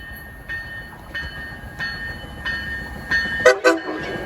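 At a rail station, a train approaches with a string of short, evenly spaced tonal signals, followed by two louder horn blasts near the end over low rumbling background.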